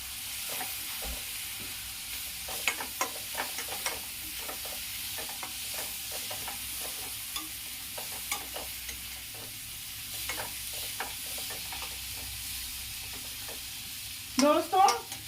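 Black chickpeas frying on high flame in a pan for a curry: a constant sizzle with repeated close stirring scrapes, ending in a few louder knocks.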